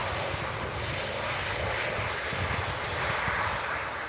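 A TAP Airlines airliner from Portugal at Manchester Airport gives off a steady broad engine roar that holds even and fairly distant throughout, with no voices.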